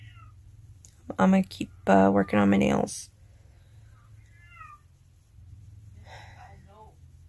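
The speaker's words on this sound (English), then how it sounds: "The cat has an opinion." A house cat meows in several loud, drawn-out calls close by, with a few fainter meows later. Someone talks between them.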